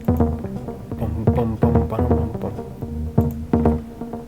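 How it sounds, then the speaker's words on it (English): Diva synth playing the Rollo's mid bass preset as a groovy progressive house bass line, punchy repeated plucked notes in a syncopated rhythm, upfront and dry with no talking. "the preset called Rollo's mid bass"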